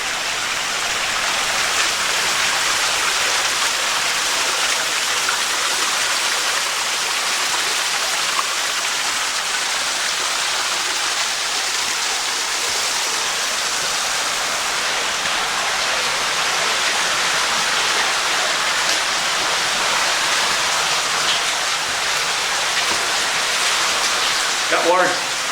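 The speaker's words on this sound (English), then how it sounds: "Got water gushing out from either side there." Water gushes out of both sides of a culvert in a steady, loud rush, a constant broad roar that carries on without a break.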